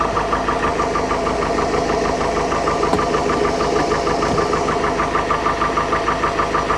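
The engine of a 1968 Starcraft Islander boat runs loud and close, a steady rhythmic knocking idle with no talking.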